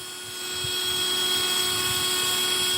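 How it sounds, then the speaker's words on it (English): A Dremel rotary tool carving an axe spins up into a loud, high, steady whine with sharp tonal bands, held close with small scraping bumps as it bites the work. "I'm really pushing the limits of this Dremel."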